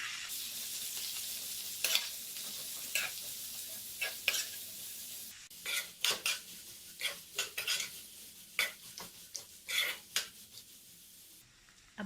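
Medium-sized sliced onions frying in a pan sizzle softly while a spoon scrapes and stirs them in repeated short strokes, with occasional light clinks against the pan.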